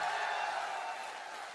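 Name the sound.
audience clapping at motivational speech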